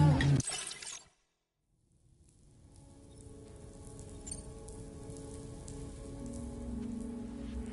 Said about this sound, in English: Raindrops are falling on my head